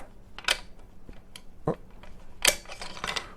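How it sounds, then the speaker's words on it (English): A rifle bolt is drawn out of its action during bore sighting for an ELR scope setup: a few sharp, close metallic clicks and slides with short pauses between them and no talking. "pull the bolt out"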